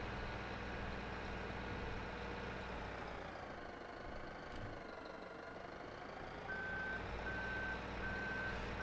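Steady reversing beeps from a truck backing up a trailer in Farming Simulator 17, evenly spaced tones over a constant low engine rumble and dense background noise.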